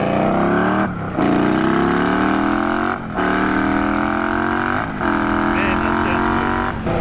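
An Indian Scout motorcycle fitted with a GP Shorty exhaust revs hard and loud in long sustained pulls, with brief drops between them as the throttle closes at about 1, 3 and 5 seconds, each followed by a rise in pitch.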